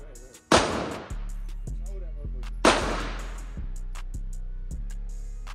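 A fully automatic firearm fires at an outdoor shooting range, two loud sharp bursts about two seconds apart, each followed by a ringing echo and tail, with a steady hum underneath.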